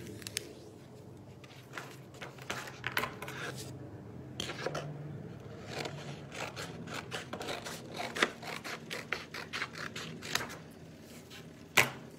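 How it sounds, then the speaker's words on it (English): Scissors snip through self-laminating paper to cut the sheet in half, a run of sharp, close crisp cuts and rustles in irregular bursts, with no talking. "Now, I'm not going to use all of this, so I'm going to cut it in half."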